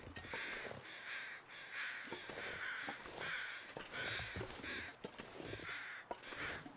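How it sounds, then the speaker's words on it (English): Crows caw repeatedly in the survival game The Long Dark, harsh rhythmic calls in quick bursts of several caws each, clear and fairly close over quiet outdoor ambience. "I do hear crows."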